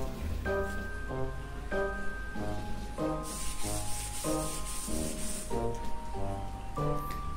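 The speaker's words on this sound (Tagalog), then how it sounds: "maaari na natin itong gamitan ng papel deliha o sandpaper" Hand sanding on plywood with 150-grit sandpaper after filler has dried, heard as continuous rhythmic rubbing strokes alongside steady tonal music, close and moderately loud, with no talk.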